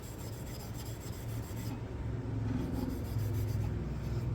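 Steel wool rubbed over a wooden handle of a Craftsman mini hatchet, a steady close scratchy rasping that grows slightly louder partway through, continuous with no talk.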